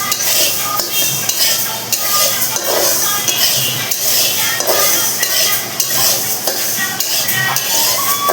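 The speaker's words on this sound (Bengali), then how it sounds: "মুগ ডালটা হালকা ভেজে নিয়ে রান্না করতে হবে।" Moong dal is lightly fried in a pan and stirred continuously, giving a steady sizzle with scraping and clinking of a spoon against the pan, loud and close and without speech.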